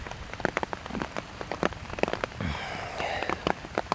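Raindrops strike a camera during a Georgia deer hunt, a close, irregular patter of sharp taps over steady outdoor rain.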